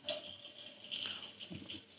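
A kitchen faucet with a digital LED display running water into the sink of a rehabbed Chicago home, a steady close hiss and splash with no one talking.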